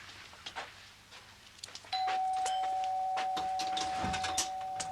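A doorbell at a house sounds once with a clear, sustained electronic tone that holds steadily for about three seconds, ringing out over quiet room ambience.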